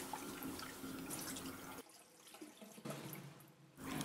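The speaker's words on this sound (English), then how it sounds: "Meanwhile, rinse the dry rice and drain the water." Running tap water splashes into a sink as dry rice is rinsed and drained, a steady close rush with a short quieter gap midway before the flow returns.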